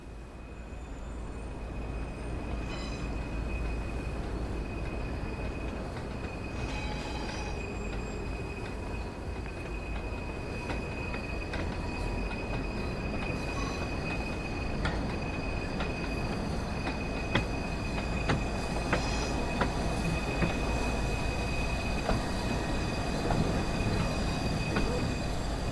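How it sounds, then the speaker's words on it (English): A train arriving at a platform in the railway game Train Sim World 3, with a steady rumbling rolling roar, faint wheel squeal and clicks, sustained and fairly loud throughout. "Stand on the platform and wait for this train to arrive."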